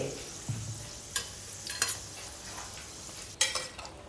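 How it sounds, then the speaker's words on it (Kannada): Samosas deep-frying in hot oil until brown, a steady soft sizzle broken by a few sharp clinks and scrapes of a utensil turning them, with no talking. "ತಿರುಗಿಸಿ ಹಾಕಿ ಕಂದು ಬಣ್ಣ ಬರುವ ತನಕ ಫ್ರೈ ಮಾಡಬೇಕು."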